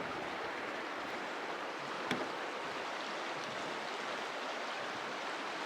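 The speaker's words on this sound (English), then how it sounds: "Crossing the North Fork of the Feather River again." Steady broadband rush of the North Fork of the Feather River flowing, heard at a trail crossing; a continuous, fairly loud wash of moving water with one brief click, no voices.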